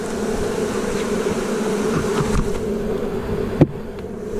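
Honeybees in an open hive being prepared for winter buzz loudly and continuously, a dense close swarm drone with no talk, broken by a brief knock near the end.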